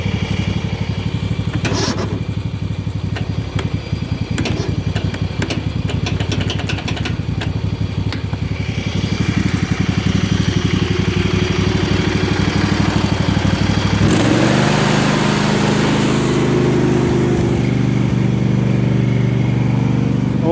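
Yard Machines and Husqvarna lawn mower engines run loud and close, a steady mid-pitched drone with rattling pulses early on, then a shift to a deeper, rougher idle partway through.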